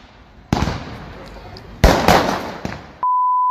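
Fireworks bursting during Bonfire Night in the UK, with loud sharp bangs and crackling pops in a street setting, including a big blast mid-clip, followed by a steady electronic beep tone at the end.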